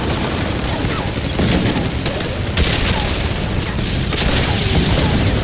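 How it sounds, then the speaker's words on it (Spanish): A dense, loud battle scene with tanks in the Pacific: continuous heavy booms and rapid gunfire bursts blend into an unbroken roar, with sharp explosive hits standing out throughout. "Explosiones y estallidos iluminan el campo de batalla."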